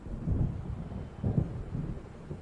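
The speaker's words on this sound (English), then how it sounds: "It seems there's a storm coming." Low rumbling thunder from a storm approaching over open water in the Alan Wake video game, rolling in two or three heavy swells that stay moderately loud and distant, with no voices.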